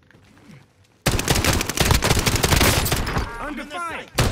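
Sudden bursts of rapid automatic gunfire in a battle royale game, loud and dense after a quiet opening, with a brief voice and a few sharp effects near the end.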